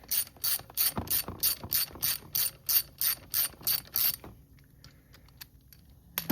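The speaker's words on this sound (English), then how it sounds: "We got our plug, got a little spark plug socket right here. I'll just pop this guy out." A ratchet with a spark plug socket clicks rapidly in a dozen bursts while backing a spark plug out of a Honda XR100 motorcycle engine during a tune-up, then stops, leaving faint light handling clicks.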